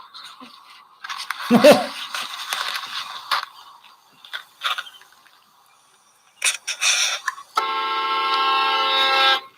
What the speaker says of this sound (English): Go ahead, hit the horn.